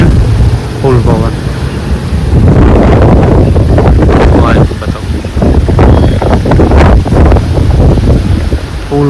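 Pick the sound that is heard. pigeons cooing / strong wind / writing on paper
strong wind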